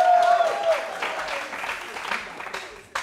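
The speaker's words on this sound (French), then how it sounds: "Applaudissez le public." A television studio audience on a French-language show applauds, with clapping running steadily under a raised voice at the start and fading slightly toward the end.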